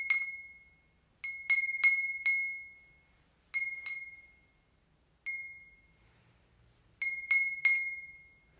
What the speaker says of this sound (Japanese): オカの風鈴かわいい、ありがとう